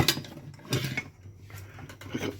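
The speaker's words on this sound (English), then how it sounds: "Pick up the pan and place on there" Metal pan set down on a kitchen cooker, a couple of close clanks and scrapes of cookware followed by quiet handling noise.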